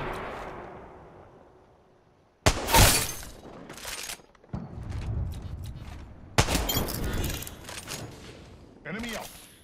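Gunfire in the video game Apex Legends, with bursts of shots and sharp impacts arriving in separate clusters, loud against quieter stretches, while a player talks between them.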